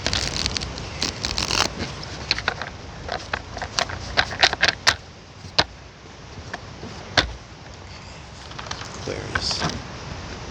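Tarot cards are shuffled outdoors at a beach, giving a run of quick crisp riffles and flicks with sharp snaps over a steady background of surf and wind.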